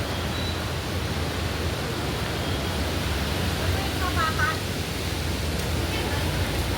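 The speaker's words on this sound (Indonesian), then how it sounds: "Ini air terjun yang bagus." Jumog waterfall in Karanganyar, Central Java, a constant broad roar of falling water, loud and steady throughout, with faint bird chirps nearby.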